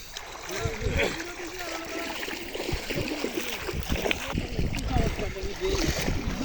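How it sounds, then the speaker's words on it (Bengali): A fishing boat pushed under river water on a rural fishing trip, continuous close sloshing and splashing with irregular gurgles, with a voice talking over it throughout. "এই নৌকাটা এভাবে আবার ডুবিয়ে রাখা হবে তারপর আবার উঠানো হবে"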